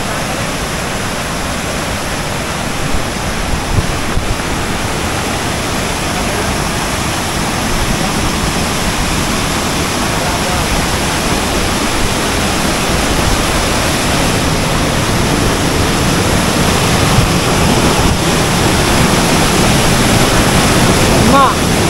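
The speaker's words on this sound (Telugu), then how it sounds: "వామ్మో, సౌండ్ చూడండి ఎట్లుందో. మన కింద ఉంది వాటర్ ఫాల్ యార్." Enagasari waterfall roars from below the viewpoint, a dense unbroken wash of loud rushing water that holds steady for the whole stretch, with faint wind buffeting mixed in.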